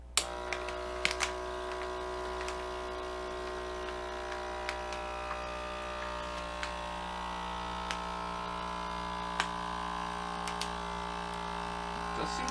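A Sinbo DZ-280 snorkel vacuum sealer's small electric pump runs with a steady whirring hum whose pitch slowly drifts, accompanied by faint scattered clicks and ticks.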